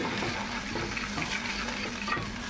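Paneer butter masala sizzling in a pan as it is fried and water is added, a constant close crackling hiss with faint stirring and no talk.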